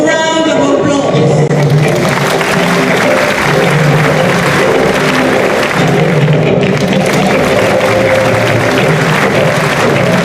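Sustained, loud applause from a fashion show audience greeting an Ankara bags and accessories collection, dense and steady throughout without any speech.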